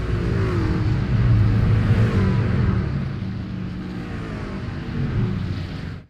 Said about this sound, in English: Hello, sweet, sweet sounds of a V8 engine until iRacing decides to go electric.